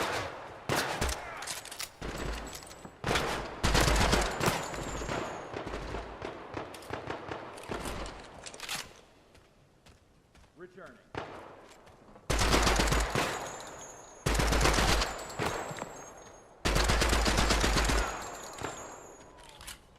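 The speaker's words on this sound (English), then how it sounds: "Just hip firing a machine gun, no problem." Rapid machine-gun bursts from hip firing in a video game, loud close automatic fire in repeated bursts separated by quieter gaps, with a few softer game sounds between.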